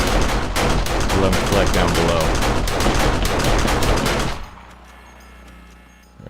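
Automated turrets in the game 7 Days to Die unleash dense, rapid machine-gun bursts, loud and continuous for about four seconds before cutting off abruptly into quiet ambience, with a voice speaking over the gunfire.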